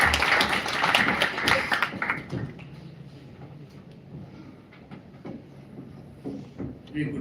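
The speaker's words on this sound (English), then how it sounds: "Please join me in giving him a warm round of applause" Audience at an institute alumni event claps to welcome a speaker: a burst of applause that quickly thins into scattered claps, with talk continuing underneath.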